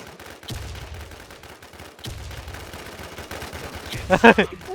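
Gunfire in a Terror shooter game, with short bursts of shots cracking out mid-clip and a louder cluster near the end, mixed with low game rumble and occasional player chatter.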